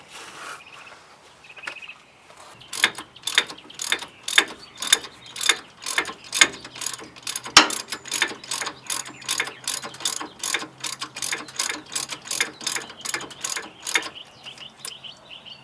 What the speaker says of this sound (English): you're going to unscrew the castle nuts